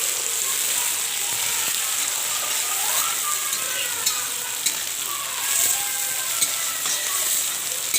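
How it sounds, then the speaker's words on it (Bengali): Tomatoes sautéing in a pan for a spicy egg curry, a steady close sizzle with occasional scrapes and stirring knocks, no voices. "টমেটো দিয়ে নেবো আমরা এটাকে দিয়ে কষিয়ে নেবো"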